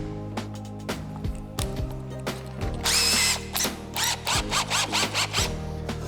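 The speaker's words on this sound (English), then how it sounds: "let's put some screws in it." A power drill drives screws into a wooden board, with repeated short whirring bursts and motor revs rising and falling, close and loud with no talking.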